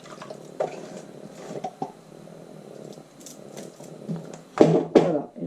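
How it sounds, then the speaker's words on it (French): Water poured into a cooking pot holding leftover tomato sauce for a paneer dish, with soft sloshes and drips early on and a louder splashing pour near the end, close and alone. "Je vais mettre un peu d'eau dans mon pot"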